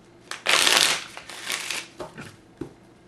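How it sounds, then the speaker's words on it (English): Playing cards are shuffled by hand close to the mic: one loud riffling burst, then a few softer shuffles and light taps. "Ooh, that was a bad shuffle."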